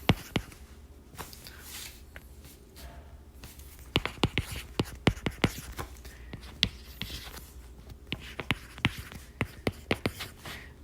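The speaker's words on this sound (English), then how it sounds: "So I'm gonna write down here." A pen scratches and taps on paper while worked notes are written out, irregular clicks and short strokes clustering in bursts, close and soft against a quiet room, without talk.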